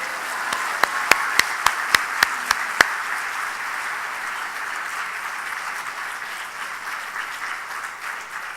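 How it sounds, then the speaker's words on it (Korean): A church congregation applauds to welcome a visiting preacher at a Sunday evening service, with a steady wash of clapping from many hands and several sharp individual claps near the start. "나오실 때 할렐루야 하면서 큰 박수 있기를"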